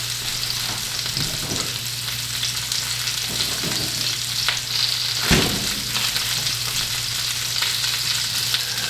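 Mushrooms sauté in a frying pan for a panini filling, giving a continuous crackling sizzle with occasional spatula scrapes and one sharper knock midway, close and steady with no talk.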